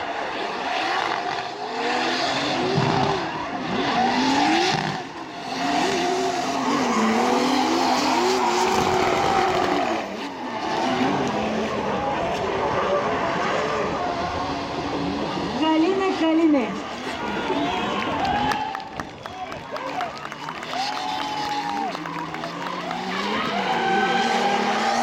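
Drift cars skid through the final of round 2 of the Bulgarian drift championship, engines wailing and tires screeching continuously with rising and falling pitch, while a commentator talks over the action.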